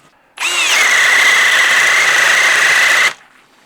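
A Ridgid power drill whines steadily at a loud, near, high pitch for close to three seconds, then abruptly cuts out and leaves near silence.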